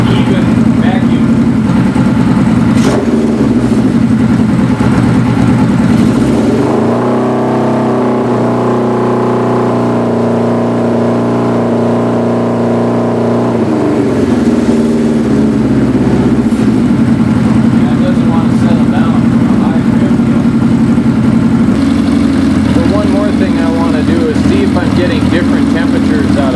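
Suzuki GS550 cafe racer motorcycle idling steadily after its carburetors were synchronized, a loud, even engine drone that holds for the whole stretch, with a brief rise in pitch partway through.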